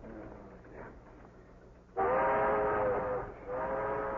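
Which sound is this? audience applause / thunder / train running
train running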